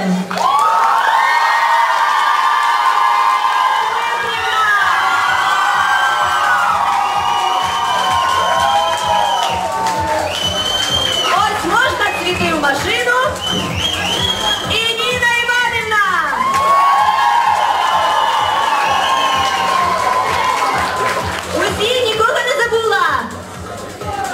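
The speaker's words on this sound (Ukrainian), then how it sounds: "А допоможемо ми теж за допомогою оплесків" A large school crowd at a Teachers' Day event cheers, shouts and whoops loudly and continuously, with children's voices prominent and scattered clapping mixed in.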